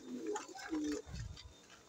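A pet pigeon outdoors gives a few short, soft coos, close and quiet, with faint tapping and ambient noise between the calls.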